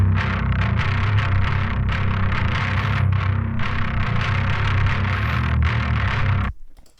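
A thick, growling bass guitar tone with heavy distortion layered over a deep clean low end, sustained and loud, then cutting off abruptly near the end.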